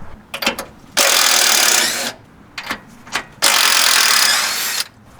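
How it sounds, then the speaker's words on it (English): The rubber boot is torn off a sway bar link ball joint on a 2008 to 2017 Ford Expedition: two loud, sustained rasping rips up close, each preceded by a few sharp clicks and creaks. "So you just rip this boot off and hold the thing steady from the shaft of the ball joint"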